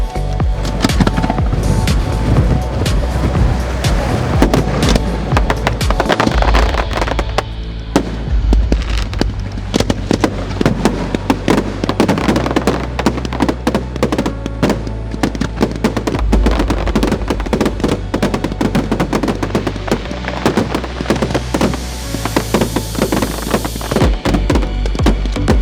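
A fireworks display is launched by a rescue team at a town festival, with dense, rapid volleys of sharp launch thumps and crackling bursts firing continuously and loudly, nearly without pause.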